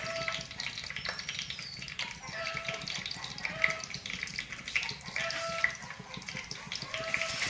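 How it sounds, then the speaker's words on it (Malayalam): Fenugreek and mustard seeds crackling in hot coconut oil, a steady dense sizzle of small pops and spits running throughout, close and fairly loud, with faint sounds of a stirring utensil. "വെളിച്ചെണ്ണ ചൂടായിട്ടുണ്ട് അതിലേക്ക് ഒരു നുള്ള് ഒരു സ്പൂണ് ഉലുവ ആവശ്യമുള്ള കടുക്"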